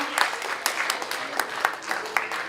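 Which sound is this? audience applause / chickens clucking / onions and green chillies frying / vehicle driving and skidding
audience applause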